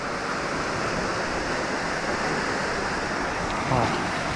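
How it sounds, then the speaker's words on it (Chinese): Tree Lake Waterfall (Laoshan Falls) in Hualien, Taiwan, a main fall with a smaller tributary fall beside it, gives a steady, dense roar of falling water that stays at the same loudness throughout. "两个瀑哦，一个是比较大的主要瀑，一个是支流哦"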